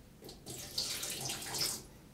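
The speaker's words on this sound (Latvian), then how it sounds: "Pievienojot mazliet ūdens" Water pours quietly and briefly into a bowl of pancake batter, a soft steady splash lasting under two seconds.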